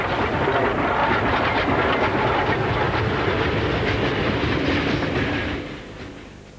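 A train runs along a railway in Manchuria, its wheels giving a steady, loud clickety-clack rumble throughout before fading slightly near the end; no voices.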